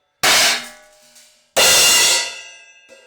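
Two bright, splashy choked cymbal crashes on a drum kit about a second apart, each cut short by the hand and fading quickly rather than ringing out, with a faint tap at the end.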